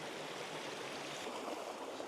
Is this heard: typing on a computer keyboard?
no